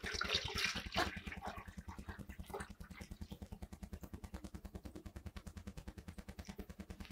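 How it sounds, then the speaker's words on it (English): Water runs into the reservoir of a bovine injection simulator during assembly, a steady close-up filling sound with a fast, regular pulsing gurgle that holds for several seconds, with no talk. "and then fill it most of the way up with water."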